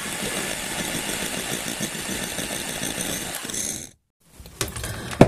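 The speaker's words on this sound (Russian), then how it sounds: "теперь взбиваю и вливаю сироп с агаром" A hand mixer whips egg whites for a berry soufflé as hot agar syrup is poured in, a steady loud whirring drone for about four seconds, then a short silence and a few clinks and faint handling noises.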